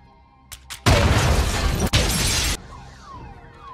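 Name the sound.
explosion inside a bank in a film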